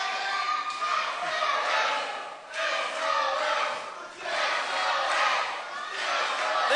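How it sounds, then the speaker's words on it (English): Loud arena crowd roars and cheers continuously for Irish Whip Wrestling champion Sheamus O'Shaughnessy, a dense wall of voices swelling in waves with brief dips, no clear talk on top. "Great ovation for the IWW champion, SOS, Sheamus O'Shaughnessy"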